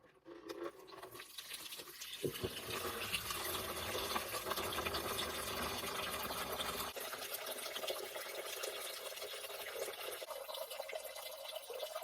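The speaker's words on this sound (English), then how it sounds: "we'll go ahead and drain the boiler into some buckets" Water draining from a home heating boiler through a drain valve into buckets, a steady continuous hissing, splashing flow, faint and close, running without a break throughout.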